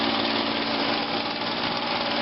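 A Pontiac Grand Am GT engine idles steadily just after a cold start at 17°F, an even, close mechanical hum with a constant tone and no speech.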